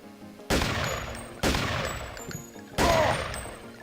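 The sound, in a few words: explosive 10mm ammo fired in video game Deus Ex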